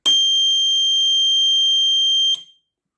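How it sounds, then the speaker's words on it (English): A loud, steady high-pitched electronic buzzer alarm from a roadside emergency beacon work light holds for about two seconds, then cuts off abruptly, close and alone. "And if you go down, it does a buzzer."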